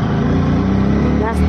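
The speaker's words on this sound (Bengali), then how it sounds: "আমরা ট্রেন থেকে নেমে অটোয় উঠে পড়েছি।" An auto-rickshaw rides along a road after passengers leave the train, its engine giving a close, steady droning hum with a faint voice near the end.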